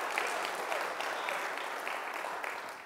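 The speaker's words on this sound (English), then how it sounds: "Give God, hey, a hand clap of praise in this house." A church congregation claps their hands in praise during a district conference service, a brief steady burst of dense clapping, moderately distant with no speech over it.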